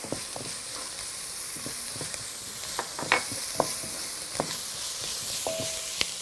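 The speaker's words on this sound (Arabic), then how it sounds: "على نار ايه هاديه كده يستوي براحته بالنسبه للبصل" Onions frying gently in a pan over low heat, with garlic and coriander going in, a soft continuous sizzle broken by occasional utensil taps and clicks, close and moderate in level, no voices.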